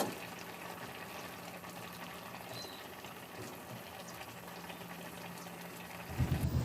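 Talakitok fish pieces boiling in a covered pot, a steady soft bubbling simmer throughout with a brief louder rumble at the end.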